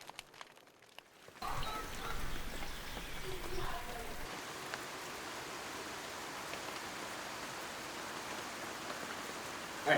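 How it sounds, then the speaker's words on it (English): Steady rain falls across a New Zealand rainforest on a gloomy day, a dense even hiss that swells in after a quiet opening second and keeps going to the end. "it is another really gloomy, rainy day"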